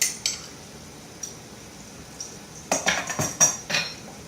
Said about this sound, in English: We're going to stir it with a pastry cutter.